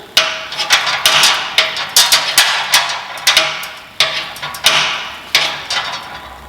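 A tubing cutter working its way around a length of tubing while fitting a flare, giving a close series of sharp metallic clicks and ticks in an uneven rhythm.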